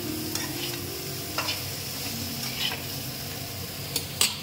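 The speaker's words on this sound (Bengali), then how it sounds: "থোড়টা আমার একটু ভালো করে কষানো হবে।" Banana stem (thor) being stir-fried in a pan, a steady close sizzle with soft scraping stirs and a few sharper clinks of the spatula against the pan, no voices.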